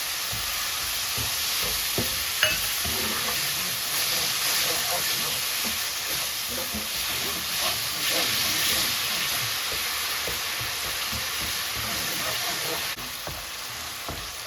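Mashed banana halwa frying in ghee in a nonstick pan as brown sugar goes in, a steady close sizzle and bubbling hiss with occasional stirring scrapes and taps.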